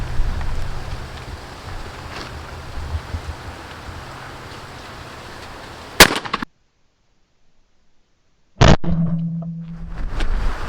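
A Beretta A400 Xtreme Plus shotgun fires Rio 3-inch 1 1/4 ounce shells, one loud sharp blast followed by a sudden cut to silence, then a second loud burst, over faint outdoor wind noise.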